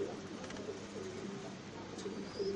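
Pankhi (fantail) pigeons coo steadily inside a cage, a low rolling murmur of several birds that runs through the whole stretch at moderate loudness.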